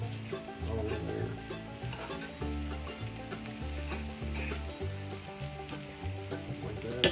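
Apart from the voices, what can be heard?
potatoes and onions frying in hot avocado oil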